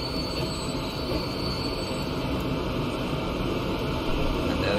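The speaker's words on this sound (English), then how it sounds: "our first, second train of this line is now passing." A train in the rail simulation game Transport Fever 2 rolls past in a continuous, loud rumble with a steady clatter of wheels on track and a faint squeal, and no speech.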